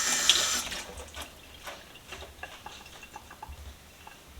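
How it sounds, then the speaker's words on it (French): Tap water runs briefly into a kitchen sink for rinsing, a short hissing splash at the start, followed by faint drips and light clinks close by in a quiet room. "Je rince."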